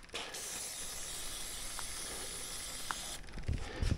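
A continuous pressurized hiss of brake cleaner sprayed from an aerosol can for about three seconds, then it stops and a few faint clicks and thumps follow.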